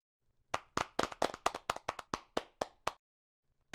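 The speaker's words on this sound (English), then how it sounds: "We can applaud Nicolas." Hands clap about fourteen times in a quick, uneven patter, close and crisp, as a small group applauds at a virtual conference session, then stops into silence.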